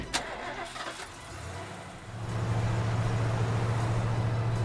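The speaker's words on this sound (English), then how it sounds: "Tateno hit the gas and sped off" A car engine in the video game 428: Shibuya Scramble, starting up and then settling into a steady, loud engine drone as the car pulls away, heard alone with no voices.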